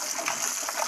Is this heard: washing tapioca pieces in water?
yes